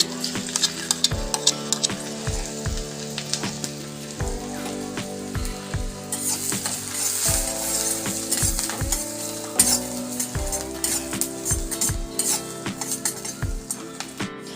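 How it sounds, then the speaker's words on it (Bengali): Chopped ginger and garlic fry in reused egg-frying oil, making a loud continuous sizzle and foaming hiss while a utensil stirs and clinks against the pan in an irregular rhythm. "প্রথম আমি আদা কুচি আর রসুন কুচিটা তেলের মধ্যে দিয়ে দেব।"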